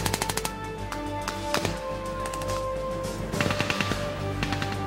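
Gunfire during an enemy mortar attack and ambush in U.S. Army Ranger School training, sharp rapid bursts of automatic shots with scattered single cracks, loud and close, ringing against a sustained background rumble.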